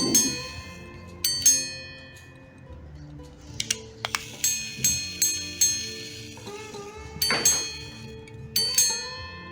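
A small watch chimes a sequence of bright, ringing bell tones, several strikes in a row, each decaying quickly, close up with faint ticking and no talk.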